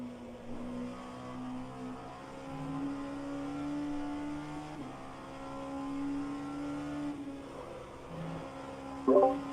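Hypercars pass along the Le Mans straight in the rFactor 2 racing game, their engine whine rising and falling over a steady in-car engine drone, with a brief sharp blip near the end.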